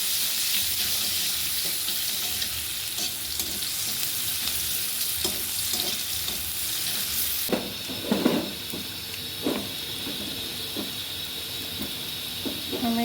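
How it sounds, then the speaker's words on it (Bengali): Chopped onion fries in oil in a wok, a loud continuous sizzle with occasional stirring scrapes and clatters, and the hiss shifts partway through. "কড়াইতে তেল দিলাম, আমাদের একটু পেঁয়াজ কুচি দিলাম।"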